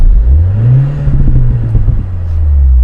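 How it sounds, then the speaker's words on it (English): A Mini hot hatch revving inside the cabin with its synthetic engine sound switched on, a loud rising and falling drone that swells, holds, then dips before climbing again. "Have a listen when I rev it."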